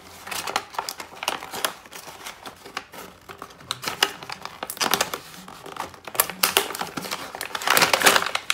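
Packaging for a bike computer crinkles and rustles as it is opened, close handled plastic and paper crackling in irregular bursts that grow busier toward the end.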